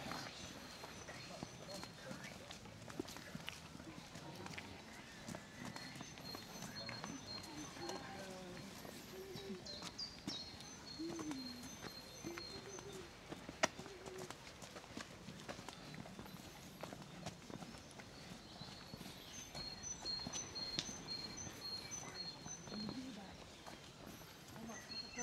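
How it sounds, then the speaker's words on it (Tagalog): Horse hooves clip-clop along a road near Elberry Cove in an ongoing, moderately quiet rhythm, with birds and background voices mixed in. "May kabayo pa tayo madadaanan."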